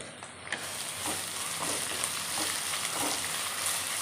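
Crushed garlic and ginger fry in oil in a pan for Kerala-style beef pickle: a steady close sizzle with a few light stirring clatters, even and unbroken, with no talk.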